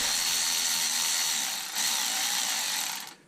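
A ratchet loosening the hex-head screw of a radiator hose clamp during a coolant drain, a steady close whirring mechanical buzz that runs for about three seconds before cutting off.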